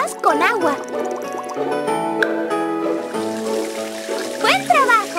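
Cartoonish water splashes and bubbly trickling from a children's puppy-bathing video game as suds are rinsed off, running continuously with chiming notes and bright synthesized effects, under a lively game soundtrack.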